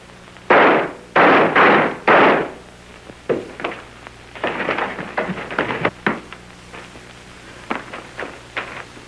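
Gunfire in a 1930 murder-mystery film: three loud, close shots in quick succession, followed by a burst of scattered smaller cracks and bangs, then a few sparse trailing shots over a thin old-film hiss.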